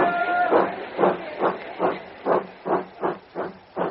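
A steam locomotive pulls away, its rhythmic chuffs of escaping steam sounding as a steady series of hissing puffs, evenly spaced and fairly close.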